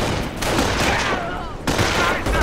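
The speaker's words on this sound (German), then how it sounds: "Schießt, was eure Waffen hergeben!" Sustained battlefield gunfire in Company of Heroes during the Normandy invasion: dense, continuous rattling bursts of rifle and machine-gun fire mixed with distant booms, loud and unbroken, with a shouted voice partly under the din.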